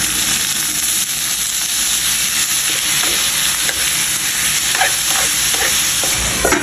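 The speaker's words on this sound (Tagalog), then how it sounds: "Gigisahin ko lang muna itong chicken" Chicken sautéing in a pan gives a steady, loud sizzling hiss with a few sharp scrapes and clinks of stirring near the end, with no voices.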